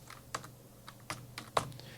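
Keys on a computer keyboard tapped while editing text, a few soft, close clicks spaced irregularly over two seconds, quiet and alone.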